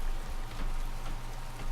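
Steady rain patters and hisses evenly in the video game Skyrim, a constant wash of falling drops with no voices over it.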